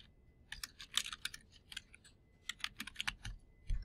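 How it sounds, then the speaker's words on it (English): Keys on a computer keyboard clatter in quick irregular bursts of crisp taps, close and fairly quiet, with short pauses between runs. "Over here I type in to that placeholder"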